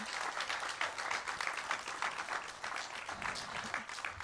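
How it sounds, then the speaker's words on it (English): Audience applauding a school principal at the opening of a modernized Montessori school on Capitol Hill, a continuous even patter of many hands, fairly quiet and distant. "So give Principal Aducham a big round of applause."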